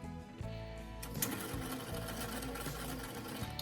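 Zigzag stitching on a sewing machine set to a short stitch length, backstitching a few passes to reinforce the seam on doll thigh-high stockings, heard as a steady close mechanical whir and rapid needle chatter with no talking.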